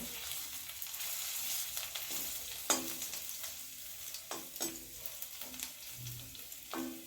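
Crushed garlic with its skin on roasting in oil makes a soft sizzle, broken by several distinct clinks and scrapes of a spatula stirring in the pan, quiet and with no talking.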